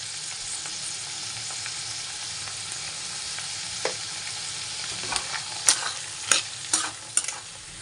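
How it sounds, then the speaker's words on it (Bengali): Chickpeas frying in a pan with turmeric give a low steady sizzle, joined toward the end by several sharp scraping and tapping strokes of a spatula stirring them. "ছোলাটা আমার প্রায় ভাজা হয়ে গিয়েছে"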